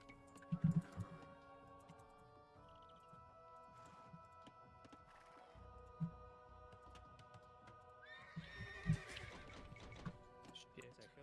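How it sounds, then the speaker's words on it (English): A horse whinnies in a strategy video game match, a faint neigh among clip-clop hoofbeats, mouse and keyboard clicks, and quiet game sounds, with a person talking over it. "Oh, fucking hell, I get a horse."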